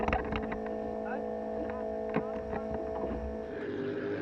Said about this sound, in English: You can hear the fuel pumps running there.